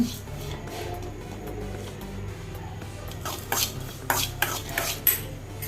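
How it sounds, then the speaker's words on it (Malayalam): Cleaned prawns fry in a pan for a jackfruit seed and mango curry, a utensil scraping and clinking against the pan in quick irregular strokes that grow louder toward the end, over a steady low kitchen hum. "ഇനി നമുക്ക് ചെമ്മീൻ വറുത്തെടുക്കണം"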